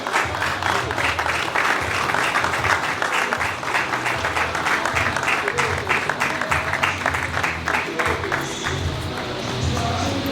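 An audience at a ceremony for young entrepreneurs' funding applauds steadily, dense sustained clapping from a large crowd that thins slightly near the end.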